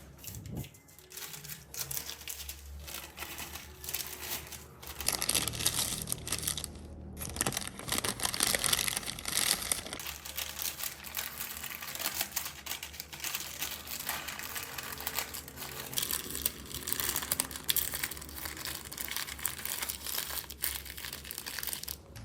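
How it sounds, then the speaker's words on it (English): Salt being wrapped in paper or tied into a small cloth bag gives close, continuous crinkling and crumpling, with a brief louder burst of rustling partway through. "place it into a small cloth bag or wrap it in paper"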